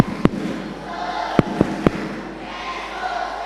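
Sunday school children at a church Christmas celebration clap their hands in a few sharp, separate claps over a busy murmur of crowd noise.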